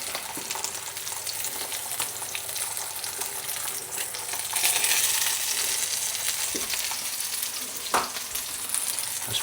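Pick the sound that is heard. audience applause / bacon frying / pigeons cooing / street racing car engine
bacon frying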